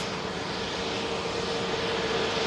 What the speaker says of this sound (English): This aircraft, incidentally, coming in from Malta.